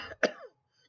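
A single short, harsh cough bursts out close and alone, with a brief raspy tail and then silence.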